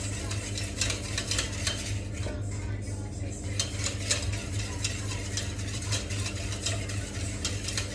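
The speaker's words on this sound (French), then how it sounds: "Montez bien. On incorpore l'air dans la préparation." A whisk beats a red wine vinegar vinaigrette in a bowl, a fast, continuous rhythmic scraping and clinking close up, steady for several seconds.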